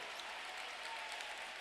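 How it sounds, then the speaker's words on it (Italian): Spectators at a Serie A2 Élite futsal match between Defender Giovinazzo and Lazio applaud in encouragement, a steady distant patter of clapping from the stands running evenly throughout. "Applausi comunque di incoraggiamento da parte del pubblico"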